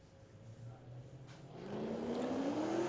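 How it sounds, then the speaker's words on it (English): A 6-cylinder Ford Falcon and a V8 Commodore launch in a drag race at a Queensland drag racing championship round, their engines rising from a distant low rumble into a climbing rev that grows louder. "Paul Nielsen in the 6-cylinder Ford going up against Matty Coates in the V8"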